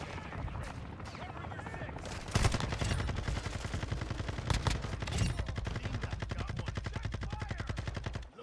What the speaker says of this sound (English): I'm done shooting into that hallway